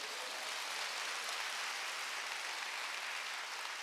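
A church congregation at a Wednesday worship service claps together in a dense, even wash of applause, steady and fairly distant with no talk over it.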